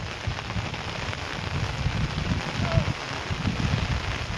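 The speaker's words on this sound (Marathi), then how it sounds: "पाऊसही भरपूर आलाय." Heavy rain falling on a farm field during sowing, a dense continuous loud patter and hiss with low drumming, steady throughout.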